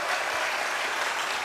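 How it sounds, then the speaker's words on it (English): A studio audience at a televised group performance competition breaks into a dense, even burst of clapping, close and loud throughout the brief moment. "I think we all deserve a round of applause because we've done amazingly well."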